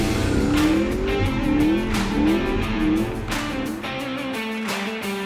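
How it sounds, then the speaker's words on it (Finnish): A Chevrolet El Camino doing a small burnout on slippery tires, its engine revving loudly with rising and falling pitch and a tire squeal over a steady, rumbling exhaust. "Otit sit pienen burniksenkin siihen. Totta kai. Taitaa olla vähän liukkaat renkaat."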